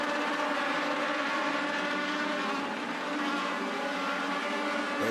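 Race cars circling Auburndale Speedway, a steady loud engine roar with a dense, continuous whine that holds level throughout, no voices.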